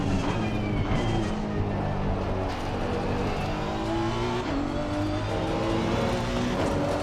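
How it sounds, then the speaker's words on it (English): A race car engine in Assetto Corsa Competizione, played in VR, drones loudly and continuously with rising and falling pitch as it revs and shifts, close and alone without talk. "And I do enjoy the engine noise now."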